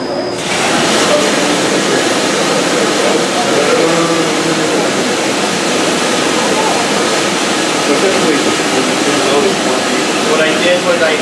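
A hotel washing machine starts up and runs with a loud, steady whooshing drone that holds evenly after a short click at the start.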